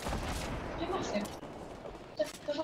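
Gunfire from a firefight in the video game Fortnite, bursts of shots crackling in the mix under and between ongoing talk from a player.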